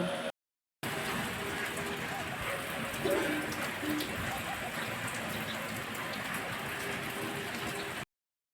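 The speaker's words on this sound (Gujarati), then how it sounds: "અત્યારે વરસાદ પણ શરૂ થઈ ગયો છે" A constant, even rainfall hisses and patters nearby, broken by a short silence at the start, with a faint voice now and then beneath it.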